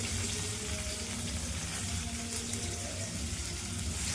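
Onions and green chillies fry in oil with a continuous soft sizzle and hiss that stays even and fairly quiet, with no voices.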